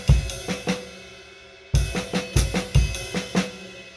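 A jazz drum kit plays an Elvin Jones-style comping pattern in 3/4, with crisp snare and bass hits under washy cymbals in a lilting triplet feel. It breaks briefly before the pattern resumes, played close and fairly loud with no talking.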